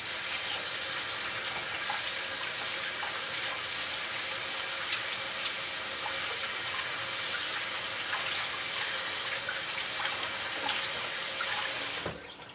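Tap water runs steadily into a kitchen sink while breading is rinsed off hands during fried chicken prep, a close, constant splashing rush that lasts almost the whole time and cuts off abruptly at the end.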